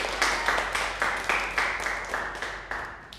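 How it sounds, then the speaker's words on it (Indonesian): Classmates clap together in a classroom, giving about a dozen distinct, fairly close hand claps in a loose, uneven rhythm over a few seconds, with no talking over them. "Beri tepuk tangan."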